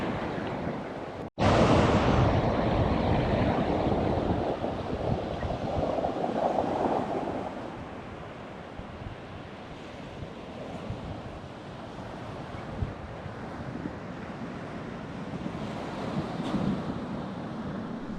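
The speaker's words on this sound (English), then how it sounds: "it's a bit windy here today, overcast, and a little cool" Wind and surf roll onto an overcast beach, a broad steady roar of breaking waves with gusty microphone rumble, loudest early and easing slightly, with no talking.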